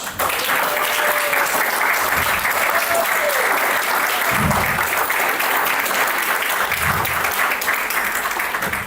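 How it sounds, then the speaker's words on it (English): Sustained, steady applause from an audience honoring graduates at a business school event, loud and continuous throughout, with faint voices briefly audible early on. "a round of applause for our graduates"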